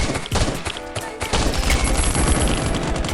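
Heavy, continuous gunfire from the survival video game Last Island of Survival, loud overlapping automatic shots and booms filling the whole stretch with a dense, chaotic firefight.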